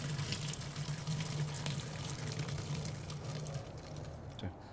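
Plain water pours steadily from a tap into a crawfish steaming pot set over a six-pack of Abita Turbo Dog beer, a continuous close splashing and gurgling stream that tapers off at the end.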